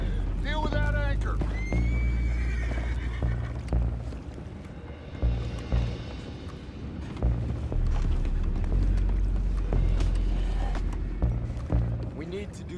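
Horses in Red Dead Redemption 2 whinny loudly near the start, with clip-clopping hooves, heavy rumbling and booming game action throughout. Voices speak over the scene.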